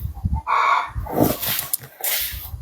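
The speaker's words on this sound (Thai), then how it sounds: "ไก่มันร้องอะไรน่ะ" A chicken crows close by, a loud harmonic call rising out of brief rustles and knocks, with another squawking burst following.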